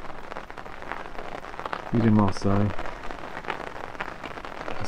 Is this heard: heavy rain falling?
yes